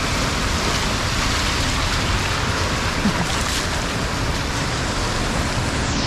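Rain drums steadily on a car driving through flooded streets at night in Vientiane, Laos, a dense, continuous patter that stays loud and even the whole time.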